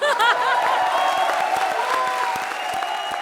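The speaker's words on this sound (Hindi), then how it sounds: "जोरदार तालियां" Studio audience at a television comedy show breaks into applause, dense clapping mixed with a few chuckles, preceded by a brief burst of musical stinger tones.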